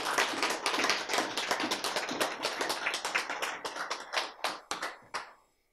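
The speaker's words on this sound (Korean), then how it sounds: "예, 박수." Brisk audience clapping at a lecture, steady and fairly close for several seconds before thinning into a few last isolated claps and fading out.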